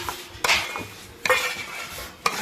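Roasted flour, semolina, cashews, almonds and black raisins stirred together in a pan while making sweet fasting ghughra, giving three sharp scraping clatters of a spoon against metal about a second apart, close and alone.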